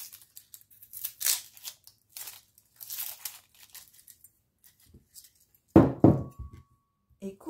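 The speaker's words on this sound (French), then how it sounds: "coupez votre gingembre en deux et épluchez l'oignon" Ginger is cut in half and an onion peeled in a kitchen: a series of soft, crisp cutting and crinkling sounds up close, then a louder knocking chop near the end.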